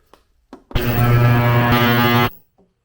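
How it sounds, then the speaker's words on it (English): Ultrasonic cleaner switching on and running with Suzuki DR650 motorcycle carburetor parts inside, a loud steady harsh buzzing hum that holds for about a second and a half before cutting off, with faint clicks around it. "I'll put it in the ultrasonic cleaner and get this thing cleaned up."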